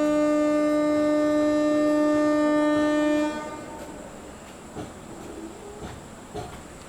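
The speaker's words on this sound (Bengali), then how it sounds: "হর্ন দিয়ে দিয়েছে" A train sounds a loud, sustained horn for about three seconds as it pulls out of Mecheda station at night, then the horn cuts off, leaving rumbling wheels and occasional clanks of the moving carriages.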